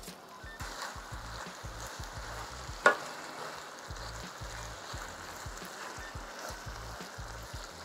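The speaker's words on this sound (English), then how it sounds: "I like to add some of the broth back and let it reduce" Beef broth simmers and reduces in a pressure cooker with a faint, steady bubbling sizzle, soft and continuous, with one brief clink partway through.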